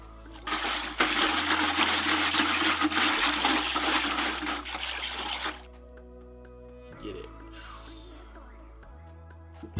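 Liquid ceramic glaze poured into a pot and back out, a loud, steady rushing pour for about five seconds that stops abruptly, followed by quieter clinks and handling noises.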